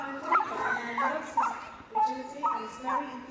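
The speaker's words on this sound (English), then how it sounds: "That is not the sound of a dog doing something that they don't enjoy, Graham." Cocker spaniel yipping and barking excitedly in short, high bursts during an agility run at a dog show, repeated about five times over crowd noise and a commentator's voice.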